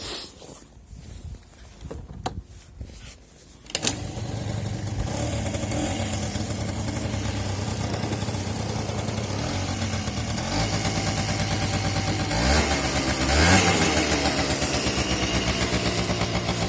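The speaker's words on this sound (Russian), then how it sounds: "Проверка мотора Honda Giorno." A Honda Giorno 49cc moped's small engine is being checked: a few clicks and clatters come first, then the engine catches and keeps running close by with a steady, buzzing putter that rises slightly toward the end.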